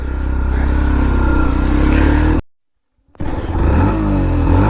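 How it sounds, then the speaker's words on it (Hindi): A Yamaha FZ S V4 motorcycle revs hard through its exhaust, a loud steady roar that cuts out briefly into silence, then returns with rising and falling throttle blips. "पहले इसका एग्जॉस्ट साउंड सुना देता हूँ मैं।"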